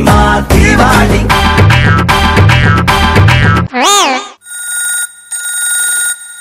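A telephone rings in a television comedy show, its warbling electronic ring coming loud and close right after a burst of music, in two short repeated spells.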